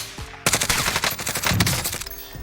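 Rapid, dense gunfire from an exchange in Warzone, a burst of sharp overlapping shots rattling for about two seconds, loud and close, tailing off at the end.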